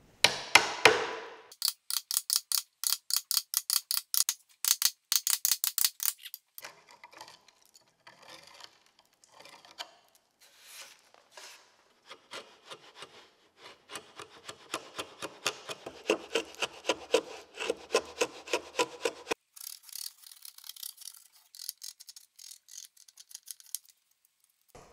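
Rhythmic rasping strokes of an old Western hand saw cutting through wood, fast bursts at first, then slower, quieter strokes before picking up pace again.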